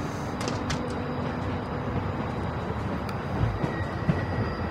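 A moving train in The Walking Dead video game, a steady close rumble of wheels and carriages with faint rhythmic clicks and occasional metallic knocks, no voices.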